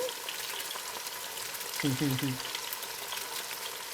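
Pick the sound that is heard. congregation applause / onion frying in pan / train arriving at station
onion frying in pan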